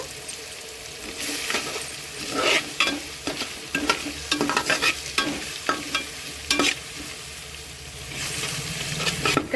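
Grated mango with turmeric sizzles steadily in a pan while a utensil stirs it, giving repeated scraping strokes and soft clatters close by.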